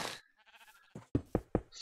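Sheep in a video game bleat a few times, a short wavering cry followed by a series of sharp, clipped knock-like blips in quick succession, close and fairly faint.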